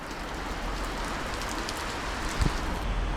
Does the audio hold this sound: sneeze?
no